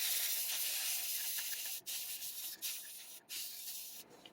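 An aerosol spray can hissing in several short and longer bursts with brief pauses, close and fairly loud, during work on a computer build.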